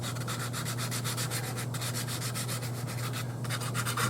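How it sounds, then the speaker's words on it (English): Sandpaper rubs back and forth over the wooden body of a replica '58 double-cut Junior guitar, a close, continuous rasping scrape with quick regular strokes and a faint steady hum underneath. "I'll take a little sandpaper."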